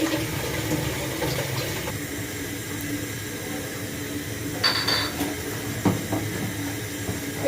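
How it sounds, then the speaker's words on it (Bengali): Water pours and drains steadily off half-boiled banana flower in a home kitchen, a continuous rushing splash with a few louder spurts, no voices. "এবার আমি জলটা ঝারিয়ে নেব"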